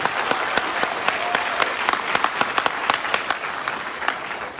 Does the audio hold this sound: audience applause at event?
yes